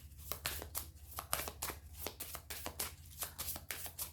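Tarot cards shuffled and flicked down in quick, crisp bursts, a steady run of close papery riffles and slaps over a low steady hum, no talking.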